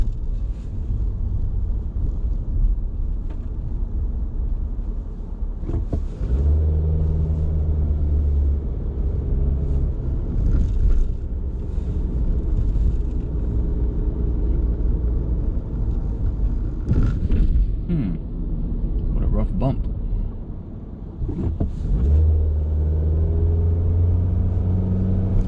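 A car drives along roads from Yonkers toward the Bronx in New York, with a steady low engine and road rumble, wind noise on the microphone, and occasional louder passing swells.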